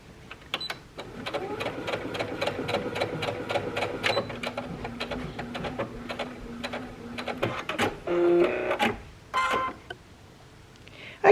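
A sewing machine stitches a seam on a shirt tie, a close, fast and steady run of needle strokes lasting several seconds, then short stop-start bursts as the fabric is pivoted, with no speech.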